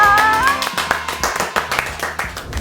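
Several people clap hands in an irregular patter, fairly close, over background music with a brief voice.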